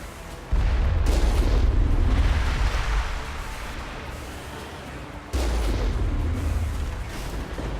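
Artillery fire in the video game Mass Effect lands as two heavy, deep booms a few seconds apart, each followed by a sustained rumbling roar.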